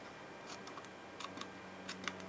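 Quick, light snips of scissors cutting paper come in small clusters, crisp and close, against a soft background hiss.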